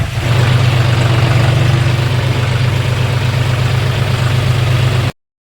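A tractor engine idles steadily and close by, a loud, even low rumble that continues unchanged until it cuts off near the end.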